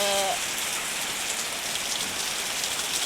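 Steady rain falls outside near a monk's dwelling after plants were watered, a dense continuous hiss of drops on surfaces, fairly loud and unbroken, with no talk.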